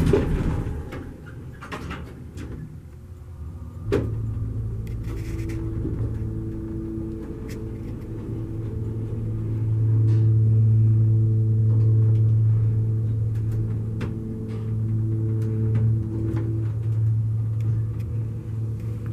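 A hydraulic elevator motor drones with a low, steady hum, swelling louder midway, with a faint sharp clunk near the start and scattered light ticks around it.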